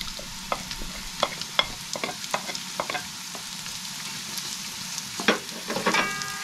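Ginger and onion sautéing in oil for chicken arroz caldo, a steady close sizzle broken by scattered sharp pops and spatula scrapes against the pan, with no voices.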